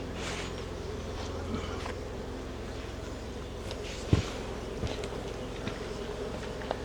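Angry bees swarm around an open hive in Canada, a steady low droning buzz hanging close over quiet surroundings, with soft knocks and a sharp thump partway through.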